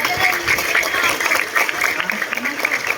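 An audience claps at an ocean park fish show, a dense, continuous patter of many hands held steady for a few seconds.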